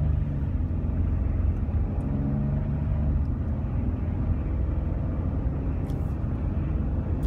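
A 2012 Nissan Pathfinder accelerating, a steady low engine rumble with road noise heard from inside the cabin, holding level throughout with no talk.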